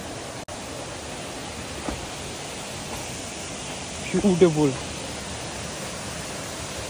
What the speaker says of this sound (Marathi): समोर तुम्हाला धबधबा दिसतोय